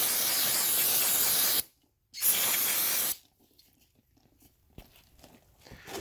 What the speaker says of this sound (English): I'm going to blow it off with some brake cleaner.